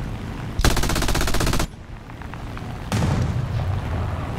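Aircraft machine guns on an I-15bis biplane in War Thunder ground-attack play: one rapid rattling burst of about a second, a short pause, then a second sustained burst under steady engine drone.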